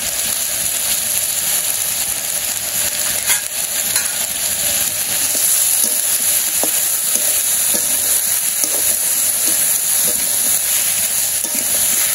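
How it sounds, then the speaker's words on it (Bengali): Vegetables sauté loudly in a hot pan with salt, chili powder and chopped green chilies, a continuous close hiss and sizzle with occasional stirring clicks throughout. "আমি সবজি কষিয়ে নেই"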